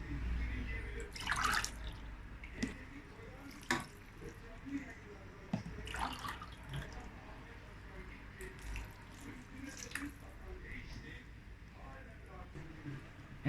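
Water being poured into a pot of meat-filled stuffed cabbage rolls, with splashing and trickling in short bursts and some drips, moderately quiet in a home kitchen.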